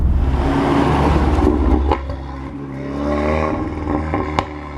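A tuned Volkswagen Golf R engine with a turbo elbow and ram air induction kit revs and drops with harmonic droning, pitch rising and falling, with a couple of sharp pops in between; loud and close.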